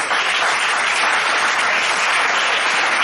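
Church congregation applauding together during a sermon, a dense, steady roar of clapping from many hands that holds evenly for a few seconds, loud and close, without talk.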